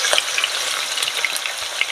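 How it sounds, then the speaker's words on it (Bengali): Hilsa fish and eggplant fry in hot oil in a pan, giving a steady, close, dense sizzle that carries unbroken through the whole stretch with no voices. "এদিকে মাছ ভাজা হচ্ছে, এদিকে দেখো বেগুনটা ভেজে নেব ভালো করে আগে"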